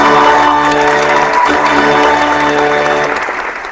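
An audience applauds and cheers a discussion panel: dense, loud, continuous clapping and crowd noise over a sustained horn-like tone, easing off slightly near the end.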